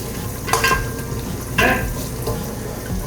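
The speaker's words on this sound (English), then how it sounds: "So I'm just gonna start getting my butter melted." Butter melting in a pot while a spoon stirs it, a low steady sizzle broken by two louder scraping strokes of the utensil against the pot.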